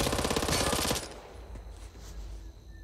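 A Tech 9 automatic pistol in Back 4 Blood fires a rapid, loud burst for about a second, then falls silent, leaving only quiet game ambience.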